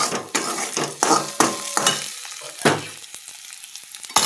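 Vegetables frying in a pan with bursts of sizzling and repeated stirring scrapes and clinks of a utensil against the pan, loud and close, tapering off into quieter intermittent knocks.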